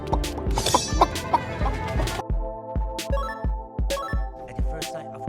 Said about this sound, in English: Master Chicken